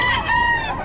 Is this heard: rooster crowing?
yes